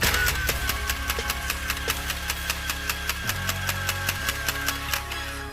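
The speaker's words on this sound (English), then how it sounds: "This one is going on 3S lipo, because these are regular stock motors, so it sounds like this." Loud, close whirring of stock flywheel motors on a foam blaster run on a 3S lipo, with a rapid, regular clacking rhythm of repeated shots, the motor pitch dipping briefly midway.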